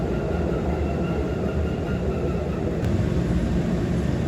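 A Central Subway train roars steadily through a tunnel, a loud continuous low rumble with rattling wheels and a brief sharp squeal near the end.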